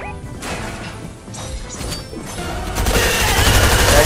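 Video game gunfire, rapid bursts of shots with crashing impacts building to a loud dense barrage toward the end.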